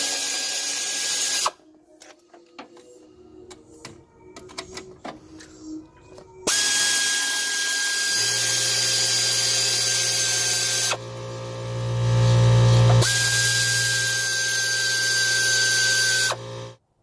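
A power tool on extensions removing the lower bolts from a Ford Super Duty 6.0 during an oil cooler job, with loud sustained whirring bursts split by quieter ratcheting and clanking, ending with a deeper heavy rumble.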